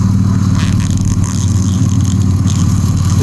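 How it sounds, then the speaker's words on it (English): Engine of a 2011 Chrysler Town & Country minivan idling with the hood open, heard up close as a loud, steady low hum with an even rhythm and no talking. "Okay, under the hood, got the engine running."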